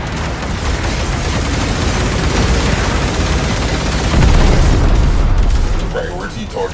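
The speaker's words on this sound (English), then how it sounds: "I want torpedoes armed and dispatched now." Torpedoes launched and detonating in the Warframe space combat game, a dense, continuous barrage of booming explosions and rapid fire, building to a heavier blast before tapering off.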